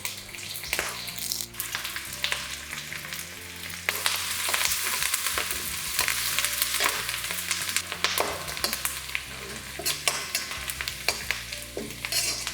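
Garlic fries in hot oil with fresh curry leaves for Chicken 65. A loud, steady sizzle sits close, broken by repeated scraping and clattering stirs throughout.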